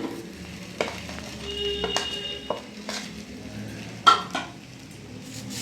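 Crushed fried dried red chilli stirred into a ridge gourd paste in a pan, with steady spoon scraping, light sizzling and a couple of sharp clinks against the metal.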